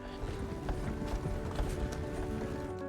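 Horse hooves clip-clop steadily as a pair of horses pulls a wagon in the video game Red Dead Redemption 2, with a dense, continuous clatter and rumbling mechanical creaks in a loud, unbroken stream, without talk.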